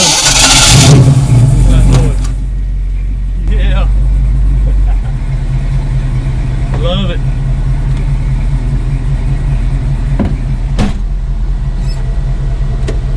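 A 1966 Ford Mustang convertible with Flowmaster exhaust rumbles with a steady, deep idle, opening with a loud rev before settling, while people talk briefly over it.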